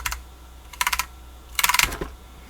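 Keycaps are pressed onto a TX75 mechanical keyboard with Ergo Clear Cherry switches, giving three quick bursts of sharp, close plastic clicks and taps separated by short pauses.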